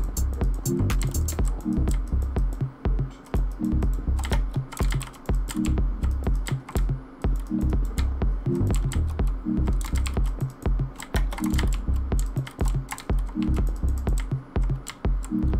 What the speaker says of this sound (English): The old mechanical keyboard's just clicking away today.